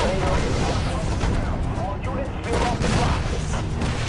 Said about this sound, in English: These rockets are nutty.